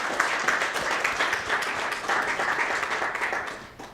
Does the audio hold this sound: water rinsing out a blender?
no